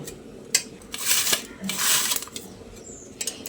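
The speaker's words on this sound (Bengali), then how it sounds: "এবার আমি এরকম একটা গ্রেটারের সাহায্যে আলুগুলোকে গ্রেট করে নিচ্ছি।" Raw potatoes are rubbed over a hand grater in uneven scraping bursts, with light metallic clinks between strokes, close and alone.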